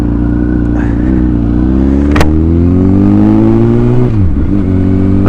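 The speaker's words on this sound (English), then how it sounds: "I think this is probably the most powerful motorcycle I've ever ridden." A Honda CBR1000RR sportbike engine pulling away, a loud close-up roar that climbs steadily in pitch, briefly dips as it shifts, then surges again.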